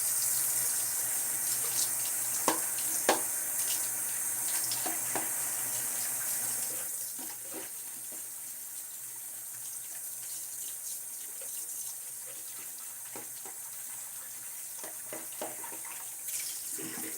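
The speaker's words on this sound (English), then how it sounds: "As always, with big old thick badgers like this, make sure you just rinse them extra much." Running water from a tap rinses a large, thick badger-hair shaving brush, a steady close hiss of flow with occasional splashes and small knocks, fading a little partway through.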